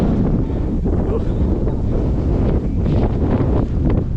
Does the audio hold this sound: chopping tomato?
no